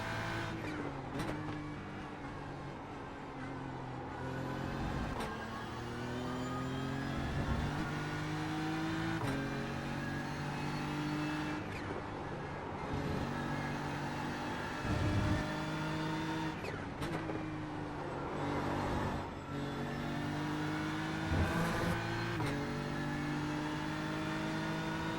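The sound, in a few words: GT3 race cars at Watkins Glen in a racing video game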